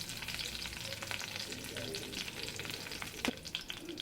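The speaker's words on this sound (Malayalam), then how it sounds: "നമ്മൾ അരിഞ്ഞു വെച്ചേക്കുന്ന വെളുത്തുള്ളി, ഇഞ്ചി, കരിവേപ്പില ചേർത്ത് കൊടുക്കാം." Garlic, ginger and curry leaves fry in hot oil for mango pickle, a continuous crackling sizzle with occasional stirring clatter, fairly close and steady.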